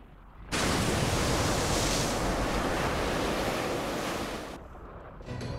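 Seawater rushing in from the game Fate/Grand Order, a loud, steady roar of surging water that starts abruptly, holds for several seconds, then cuts off sharply.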